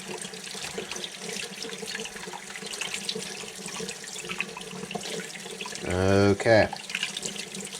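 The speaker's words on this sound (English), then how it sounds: "I like to rinse out the cavity and get all the gut strands and what's left of that bloodline out of them. I always use cold water" Cold tap water runs steadily while a freshly caught stocker rainbow trout's cavity is rinsed, a continuous hiss with a louder splash and change near the end, and a brief spoken word over it.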